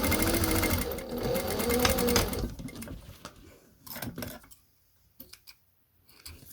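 Sewing machine runs steadily while neatening the edge of a fabric face covering, a dense rapid stitching whir for about two seconds, then stops and gives way to intermittent clicks and handling noises.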